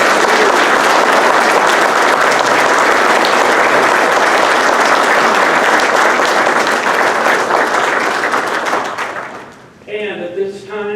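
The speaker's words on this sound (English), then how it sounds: "let's have that round of applause" Sustained loud applause for scholarship students at an annual meeting: dense, steady clapping from a crowd that fades out near the end as a voice begins speaking.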